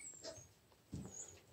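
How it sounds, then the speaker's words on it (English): Puppies whimper and yip faintly in a few short, high-pitched cries, with a soft thump partway through against quiet background noise. "Well, there's the puppies again."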